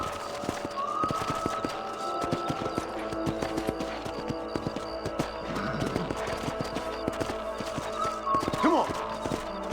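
Horse hooves clip-clop steadily through the Red Dead Redemption video game, mixed under in-game music and ambience, with a brief whinny or voice toward the end.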